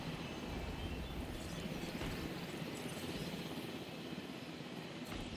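A helicopter in a Jurassic Park dinosaur video game makes a constant, faint rotor and engine drone. The noise stays even from start to finish, with no one talking.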